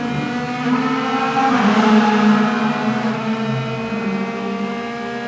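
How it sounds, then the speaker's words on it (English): DTM race car engines thrashed hard in qualifying at Moscow in 2015, heard onboard: loud, harmonic-rich engine howl rising and falling through revs and gear changes, continuous and close with no talking. "Great to hear those cars being thrashed from these onboard shots that we're able to bring you."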